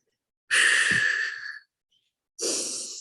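Two slow, breathy exhalations, one long and one trailing off, heard close and clear with a short silence between, made while demonstrating breathing out on the effort of lifting.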